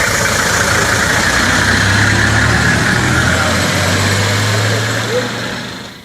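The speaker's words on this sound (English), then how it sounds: "The sunrise in Gulu's Army 4th Division barracks brought with it revving engines of army tanks and trucks" Army tanks and trucks at Uganda's 4th Division barracks in Gulu, engines rumbling loud and close in a continuous low drone, with a sustained heavier revving tone midway before the noise tapers off.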